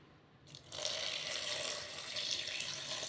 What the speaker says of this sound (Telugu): ఇందులోకి ఒక 2 గ్లాసెస్ ఆఫ్ వాటర్ యాడ్ చేద్దామండి